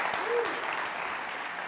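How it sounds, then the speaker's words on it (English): A crowd at a TEDx talk applauds and cheers, a continuous dense wash of clapping with a brief voiced whoop rising above it. "Will there be applause and cheers and roars?"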